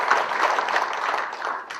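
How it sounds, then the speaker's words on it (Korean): An audience applauds at a housing policy and real estate market outlook briefing, a brief, steady, mid-level patter of many hands clapping together. "박수 한번 다시 부탁드리겠습니다."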